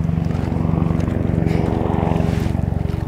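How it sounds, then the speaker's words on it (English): Helicopter flying near a Swiss mountain, a loud, close rhythmic rotor thump pulsing steadily over a low engine rumble and some wind, with no talk. "Oh, a helicopter right there."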